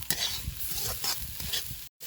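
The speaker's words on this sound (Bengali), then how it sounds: "সোয়াবিনের দিয়ে আরও ভালো করে আমি ভেজে নেব সোয়াবিনটা" Soybean chunks fry in a pan while a spatula stirs them, producing close, rhythmic scraping strokes over a light sizzle, ending in an abrupt cut to silence, with no voices.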